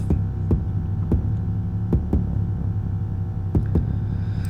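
Deep, booming 808 bass notes throb continuously, each new hit arriving before the last one fades so the low tones run together under sharp, evenly spaced clicks.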